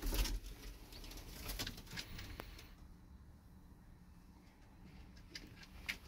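Fancy tumbler pigeons, parents with their young, coo faintly and flap their wings in a quiet loft, with soft scattered rustles and a few brief wingbeats.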